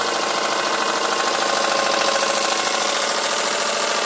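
A large, fast ISIS gas burner runs at 45 PSI with a loud, steady, broadband roaring hiss, constant and close, with no voices.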